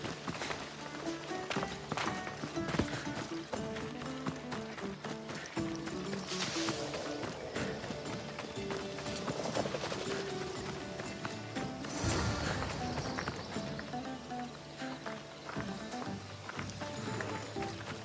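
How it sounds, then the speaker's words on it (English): Horses gallop in a race in the video game Assassin's Creed Odyssey, a steady drumming of hooves under a dense, continuous bed of game ambience and music that runs throughout. "Now we'll race horses."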